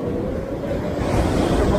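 Continuous low roar of ocean waves breaking on Dreamland Beach in Bali, steady and fairly loud with no distinct individual crashes.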